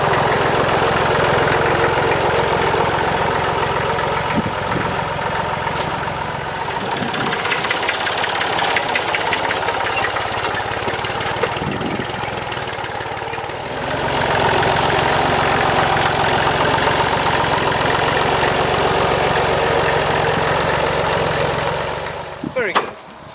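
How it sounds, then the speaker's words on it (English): A vintage tractor engine runs continuously nearby in an orchard, a loud rumbling idle with knocking vibration that shifts slightly in load, voices faintly under it. "It's a bit of a vintage tractor, isn't it?"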